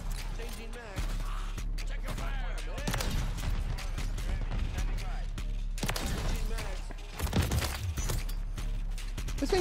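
A Blunderbuss shotgun in Call of Duty MW3 fires a few punchy blasts amid constant game noise, with a voice talking over much of it.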